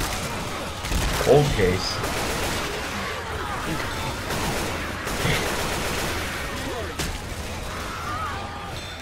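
Rapid bursts of gunfire from the Left 4 Dead 2 Burning Down Under expert campaign crackle through the whole stretch, loud and dense, with a louder cluster early on and players talking over the shooting.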